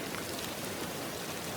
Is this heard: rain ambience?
yes